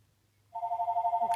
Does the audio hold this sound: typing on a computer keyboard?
no